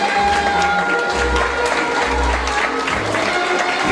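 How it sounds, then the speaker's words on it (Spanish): A crowd applauds graduates at a 2019 graduation ceremony, loud continuous clapping with some cheering and low rumbling underneath, sustained throughout without a break. "Los aplausos."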